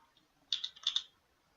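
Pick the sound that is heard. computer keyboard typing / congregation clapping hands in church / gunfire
computer keyboard typing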